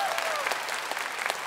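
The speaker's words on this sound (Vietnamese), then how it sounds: "Một tràng pháo tay thật lớn nữa." A talent show audience in a semifinal broadcast breaks into dense, continuous applause for the performers on stage. A few voices and crowd noise are mixed into the clapping.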